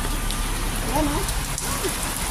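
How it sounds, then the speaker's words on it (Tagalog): Heavy rain pours down steadily in the dark, close and continuous, with a voice murmuring faintly underneath. "Ang lakas ng ulan."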